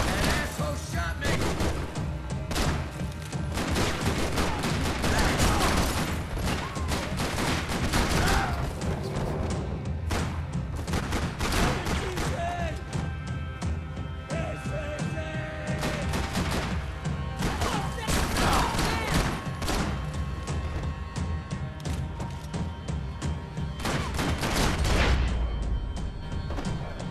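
Gunfire in the Max Payne 3 video game, dense and continuous bursts of shots, impacts and crashes that keep up loudly for the whole stretch, with no pause between volleys.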